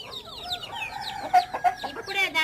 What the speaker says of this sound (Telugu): తొవ్వి తొవ్వి తినిపించాలని కోడి పిల్లలకు ఆరాటం